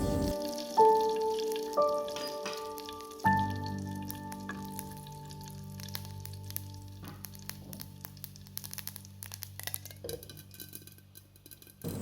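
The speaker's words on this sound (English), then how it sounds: "Then add a half teaspoon of mustard seeds." Mustard seeds frying in hot oil in a pot for a spicy mango curry, a close, continuous sizzle with scattered crackles and faint clinks, with music tones in the background.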